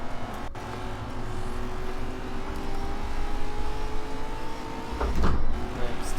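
Simulated car engine in Forza Horizon 4 driven with a steering wheel and shifter, a steady droning rev with rising tonal pitch held throughout, swelling louder near the end.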